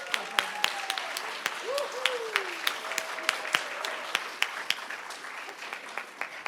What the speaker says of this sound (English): you can applaud them